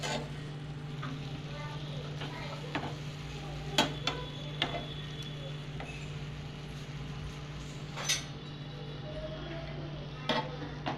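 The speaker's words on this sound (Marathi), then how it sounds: "शेंगदाण्याचं कूट घालून घ्यायचंय दोन ते तीन चमचे आणि छान असं हलवून घ्यायचंय" Carrot-leaf vegetable dish with crushed peanuts being stirred in a pan: a faint, steady low hum with soft scraping and occasional sharp clicks of the spoon against the pan.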